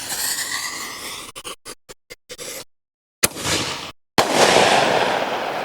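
An aerial firework shell from a Red Apple party box assortment, heard as a rapid string of sharp crackles, a loud burst, then a broad roaring hiss of the shell breaking overhead, outdoors with no talking.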